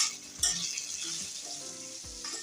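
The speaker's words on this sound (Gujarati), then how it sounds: "આ રીતના એને સતત હલાવી અને આપણે ફ્રાય કરી લેવાના છે" Spiny gourd (kantola) pieces fry in a pan with a steady sizzle, while a spatula stirs them in a few short scraping strokes, close and moderately loud, with no voices.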